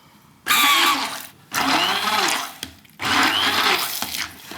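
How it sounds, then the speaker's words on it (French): A blender purees sardine rillettes with saffron and pepper in three loud, close whirring bursts separated by brief pauses. "Je vais y mettre du poivre aussi. Et on mixe. Et on mixe tout simplement."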